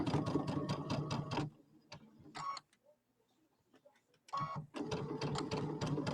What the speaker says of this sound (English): Okay, so I'm going to sew around this.